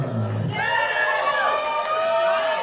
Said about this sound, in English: Keep that cheer going